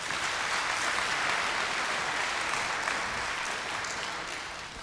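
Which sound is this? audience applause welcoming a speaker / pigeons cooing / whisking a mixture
audience applause welcoming a speaker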